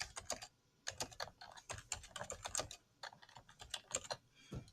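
Someone types on a computer keyboard, a quick irregular run of faint clicky keystrokes in short bursts and pauses, with no one speaking.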